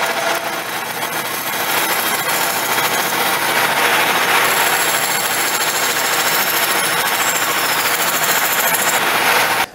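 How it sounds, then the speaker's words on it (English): A workshop bandsaw cuts notches in wooden gliding rocker parts, heard as a loud, steady, continuous whining buzz of blade through wood that runs close and unbroken throughout. "We're going to be doing this on the bandsaw."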